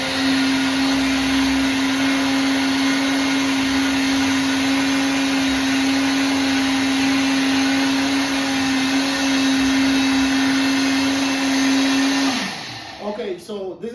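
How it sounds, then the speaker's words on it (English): A Silver Crest multifunctional blender runs steadily at close range with a loud, even motor whine for about twelve seconds, then spins down and stops, leaving faint clatter. "you can turn it on, and then you can use the on and off button, turn it on, and then maybe increase the speed to get it more smoother"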